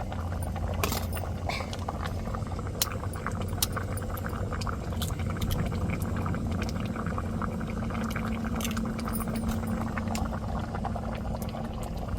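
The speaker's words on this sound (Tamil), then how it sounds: "அடுத்த முட்டையை நம்ம உடச்சி ஊற்றிக்கிறோம்" Eggs are cracked and poured one by one into a boiling egg curry, with a continuous close bubbling and simmering bed and a faint liquid pour under it, no speech.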